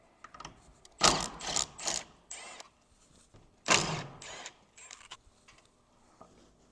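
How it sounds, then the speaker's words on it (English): A Torx T30 bit works a corner bolt loose on a pop-up camper tent. Two bursts of sharp ratcheting clicks come close and quiet, each followed by short lighter clicks, with near-silence between them. "we need to remove this corner bolt, and this will be using a Torx or T30 bit."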